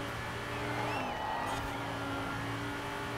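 A Lamborghini Huracan in Forza Horizon 4 drives fast, its engine holding a steady high-pitched drone with shifting revs and a brief rising sweep, loud and continuous with no talk.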